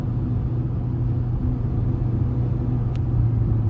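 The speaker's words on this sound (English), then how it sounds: "Now let me try accelerating gradually." A Hyundai Exter SX AMT accelerates gradually with a steady low engine rumble and cabin road noise that stays level and continuous, with no voices.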